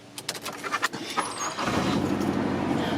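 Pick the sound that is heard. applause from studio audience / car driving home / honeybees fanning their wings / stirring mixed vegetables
car driving home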